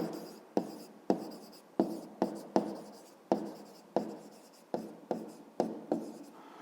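Pen or chalk writing out a geometry solution in a Ukrainian fifth-grade maths lesson, with a dozen short scratchy strokes tapping down in a quick irregular rhythm, close and alone.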